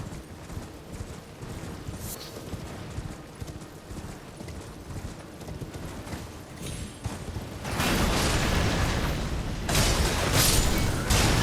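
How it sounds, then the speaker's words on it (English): A delayed explosion goes off in Elden Ring near Redmane Castle, a loud broad blast arriving about two-thirds of the way through and a second burst soon after, following a stretch of rhythmic clattering game noise. "I didn't know those had a delayed explosion"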